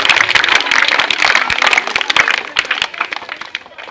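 Schoolchildren clap together in thanks to a guest at a free school bag distribution, a dense burst of many hands that thins and fades toward the end, with a murmur of voices underneath.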